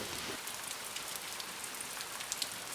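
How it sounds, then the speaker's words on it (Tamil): Heavy rain pours steadily on a surface with dense, even hiss and scattered drop hits throughout, alone with no voices, as a sound effect in a Tamil cartoon moral story about a leaking roof. "மழை ரொம்ப அடிக்குதா?"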